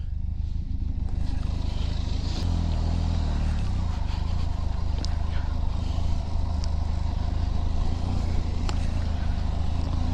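Close and steady, a Benelli TRK502X twin-cylinder motorcycle engine runs at a continuous idle, with a slight rev change early on and faint background clatter.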